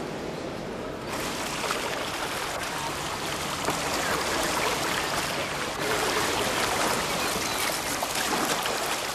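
The Danube flows past in a steady, broadband wash of moving water, continuous and fairly loud with no talk over it.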